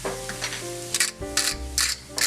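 Lentil mixture with garlic, cayenne, thyme and spices cooking in a pan, a soft sizzle broken by several short bursts of spoon scraping and stirring, close and without talk.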